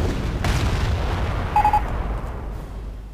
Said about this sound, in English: Fraggers has a Hummel on the field, and he is shelling that 88.